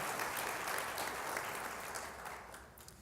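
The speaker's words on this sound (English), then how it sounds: "So give a big round of applause to Boston" Steady audience applause at a formal event with official remarks, a continuous wash of many hands clapping that gradually thins and fades toward the end.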